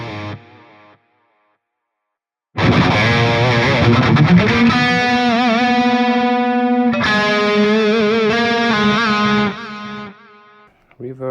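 A distorted electric guitar played through the tape delay on a Mooer GE200 multi-effects unit rings out loud, with sustained notes and bends trailing into repeating echoes and a brief silence before it begins.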